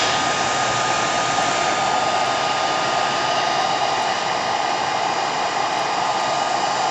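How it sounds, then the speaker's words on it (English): A heat gun on its cool setting blows steadily to dry paint on a gel printing plate, a loud, continuous close-up whoosh with no pauses and no talking. "this is on a cool setting. Don't use your heat gun on your jelly plate."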